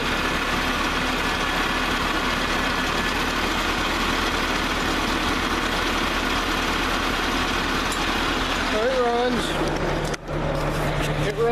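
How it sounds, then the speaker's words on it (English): A tractor engine idles in a steady, close low rumble, with a person talking over it and a few clanks near the end. "Running like a nice tractor, I guess you'd say."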